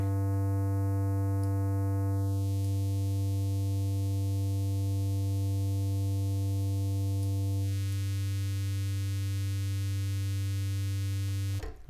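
Steady square wave tone from an Arturia Modular-V software synth, passed through a notch filter whose cut sweeps downward through the upper harmonics, leaving a constant buzzy drone. The tone is loud, continuous and alone, with no voice.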